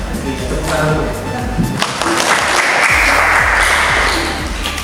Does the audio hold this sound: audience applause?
yes